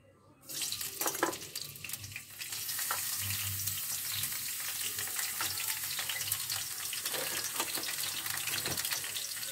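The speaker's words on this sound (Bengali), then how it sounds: "ভালো করে লাল লাল করে একটু ভাজতে হবে" Winter vegetables sizzle steadily in a hot pan, stirred with a spoon that scrapes and clinks now and then, close and continuous with no talking.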